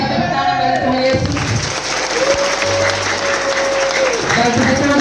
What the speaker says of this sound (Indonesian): Kita tepuk tangan bagi Tuhan Yesus.